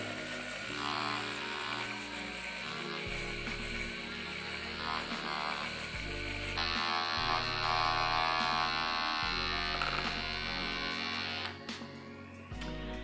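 A Stylpro electric makeup brush cleaner spins a brush with a steady, loud motorized whir and hum that shifts pitch partway through, then drops near the end; no voices.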